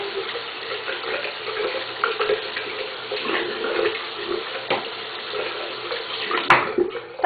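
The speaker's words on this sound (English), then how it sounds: "So sorry, it's going to get loud because I'm washing it out." Tap water runs and splashes into a container as it is rinsed out, a continuous close gush with shifting splashes and a few clunks near the end, no voices.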